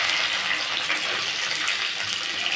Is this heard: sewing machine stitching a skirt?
no